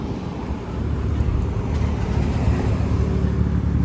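Low, steady engine rumble from a BMW car on the road, loud and close, building slightly and holding as a continuous drone with no talk.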